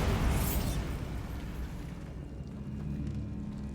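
A Bombarda spell blast in Hogwarts Legacy: one loud, close, booming explosion that rumbles and slowly decays into a low lingering roar.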